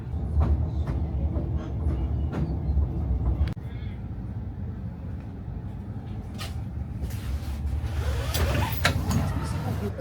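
Train ride toward Pernik, Bulgaria: a continuous low rumble of the moving carriage with scattered clunks and rattles, growing busier near the end.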